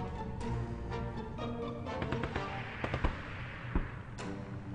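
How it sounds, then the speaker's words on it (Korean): A few sharp gunshots crack out at irregular intervals over a dense game soundtrack in 60 Seconds!, moderately loud against the steady background. "총소리가 났죠?"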